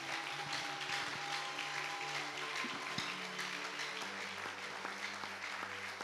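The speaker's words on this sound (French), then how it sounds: "On acclame la parole." A church congregation applauds in steady, dense clapping throughout, with a faint background hum beneath it.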